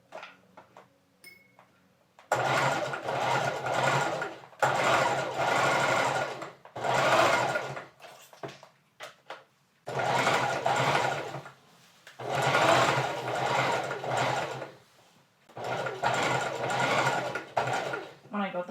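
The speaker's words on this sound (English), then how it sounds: "this thing is an industrial sewing machine, so it's like powerful" An industrial sewing machine runs in repeated bursts of a few seconds each, a loud steady mechanical whir with a rapid ticking chatter, separated by short quiet pauses.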